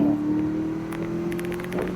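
A 2008 Cadillac XLR-V pulls hard from a 15 mph roll, its engine a steady, strong droning hum close by, with light rustle over the top.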